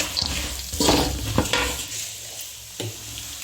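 Ingredients for spicy puffed rice roast in a pan, with a few scraping stirs and clattering knocks of a utensil over a soft sizzle, close and fairly quiet.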